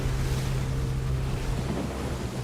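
A Water Tsunami attack in the game Pokemon Legends Arceus, a steady roaring wash of surging water and wind-like rush that holds at an even level throughout, with a low sustained drone beneath and no voices.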